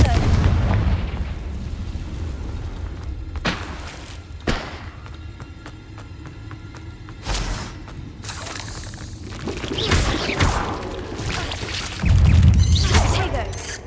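Confringo explosive curse blasts in Hogwarts Legacy land as several heavy booming thuds with crackling, shattering debris, spaced irregularly over game ambience, with a louder burst of blasts toward the end.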